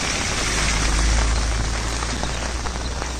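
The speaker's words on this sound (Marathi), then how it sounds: "खूप पाऊस आहे" Heavy rain pours down steadily and loudly in a dense, unbroken wash of noise, close by and on its own with no voices.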